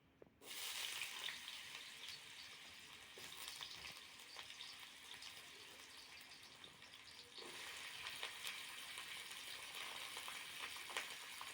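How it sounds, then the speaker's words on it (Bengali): Potatoes, carrots and eggs fry together in hot oil in a wok, giving a steady, fairly quiet sizzle that runs throughout with no talking. "এখন আলু গাজর ডিম কড়াই সব একসঙ্গে ভালো করে ভেজে নেবো"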